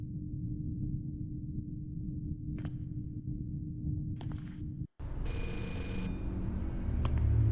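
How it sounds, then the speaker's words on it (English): A payphone's electronic ringing sounds in short, separated bursts over a low steady hum, followed by a sudden shift into a brighter, tonal ringing texture. "I hear a payphone."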